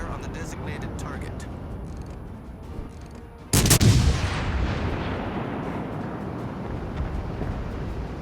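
Warship guns fire in a naval combat video game, one sudden heavy boom that rolls off into a long fading rumble over steady engine and sea noise, with faint clicks and voice lines around it.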